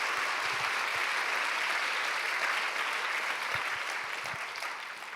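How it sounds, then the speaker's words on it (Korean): A church congregation applauds during a Sunday service, a steady wash of many hands clapping together that gradually fades toward the end. "다시 한번 크게 박수로 드리기 바랍니다"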